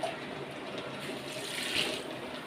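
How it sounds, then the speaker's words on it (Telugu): Water is poured into a cooking pot over a thick, sour tamarind-style base; a soft, steady splashing hiss runs quietly and closely through the moment. "ఇదిగోండి వాటర్"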